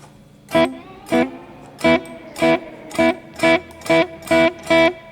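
Higher-gain electric guitar from a self-built Gibson-style instrument, with lighter reverb, plays eight sharp, evenly spaced chord stabs over about five seconds, each one short and punchy with quiet gaps between, no voices.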